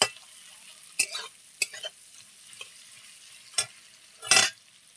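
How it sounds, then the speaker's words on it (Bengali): Onions frying in a pan until reddish, heard as a soft low sizzle broken by several sharp scraping stirs of a spatula against the pan, close and uneven, no speech. "পেঁয়াজটা লাল লাল করে আমি ভালো করে ভেজে নেব।"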